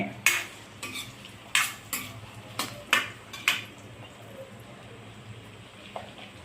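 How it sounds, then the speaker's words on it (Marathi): Chopped onion sautéed in oil until golden for dhaba-style chole, heard as a series of sharp metal spatula clanks and scrapes against the pan at an uneven rhythm over a faint low sizzle, close, no voices. "कांदा परतून घेणे अगदी कांदा व्यवस्थित सोनेरी कलर येईपर्यंत परतून घेणे"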